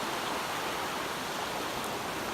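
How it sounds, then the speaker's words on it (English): Mission Creek in Kelowna, British Columbia, flows as a steady, dense broadband rush of water, close and continuous, with no voices. "I made it down to the creek."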